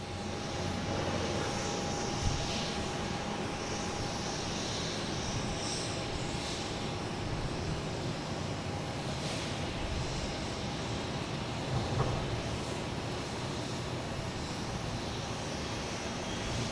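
PAL Airlines Dash 8 turboprop at Boston Logan International Airport gives a steady, broad engine roar with a faint sustained tone, holding constant and moderately distant throughout without talk.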